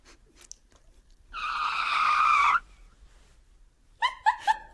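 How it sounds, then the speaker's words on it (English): A sustained, loud Ferrari Formula One tire screech lasts about a second, alone and close. Afterward comes a quick burst of short, high squeaky chirps. "That's the sound of Ferrari's tires just deteriorating"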